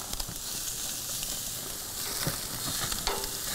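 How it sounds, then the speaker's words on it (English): Lamb cutlets sear on a grill with a steady, close crackling sizzle that continues without a break, with no voices over it. "We've got some nice sear on them"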